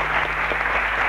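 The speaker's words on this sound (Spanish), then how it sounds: "Fuerte el aplauso" Studio audience applause on a comedy TV programme, a steady dense wash of clapping hands filling the whole moment at moderate loudness with no voices over it.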